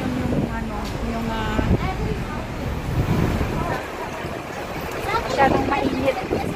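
Wind buffets and rumbles across the microphone with a surf-like roar, under a voice speaking intermittently throughout.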